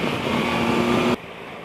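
A Triumph Explorer XC's triple-cylinder engine drones steadily and close by for just over a second before the sound cuts off abruptly, leaving a faint background rumble.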